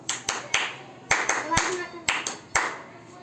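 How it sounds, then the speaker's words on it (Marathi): A group of schoolchildren clap loudly in three quick bursts of three claps each, sharp and close, with faint voices in the background. "तीन टाळ्या जोरात वाजायच्या तीनदा तीनदा हो"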